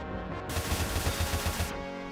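Rapid Gatling gun fire in the fantasy game Ashes of Creation, a roughly one-second burst of evenly spaced shots that starts and stops abruptly over steady game background sound.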